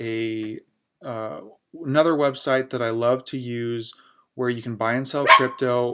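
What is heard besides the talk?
puppy barking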